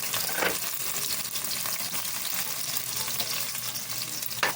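Chopped garlic and onion fry in oil in a pan for adobo, giving a steady close sizzle with a few brief scraping stirs.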